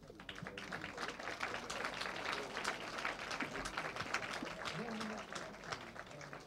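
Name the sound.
audience applause at a forum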